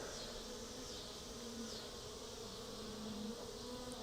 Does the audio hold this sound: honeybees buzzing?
yes